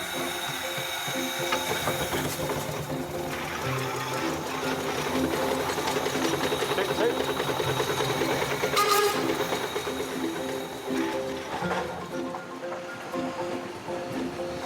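A vintage steam roller engine chugs and clatters steadily on a test drive in Devon, a continuous mechanical running noise with a brief sharp hiss or whistle near the middle, no talking.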